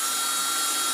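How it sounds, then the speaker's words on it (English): A power drill bores a hole in the bottom of a kids' TK helmet, producing a steady, bright, high-pitched whine that holds constant and close throughout, alone without speech. "I'm gonna drill the bottom hole first."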